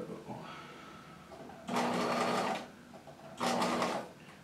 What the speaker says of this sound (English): we're going to stitch just a few stitches at a time, readjust, a few stitches at a time, readjust